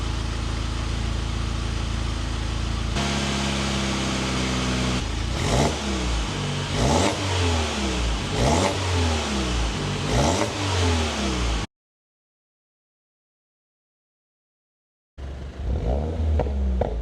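An R56 Mini Cooper S JCW revved about a metre from the exhaust outdoors: an idle, then a series of sharp blips rising and falling, a few seconds of silence, and one more rev at the end.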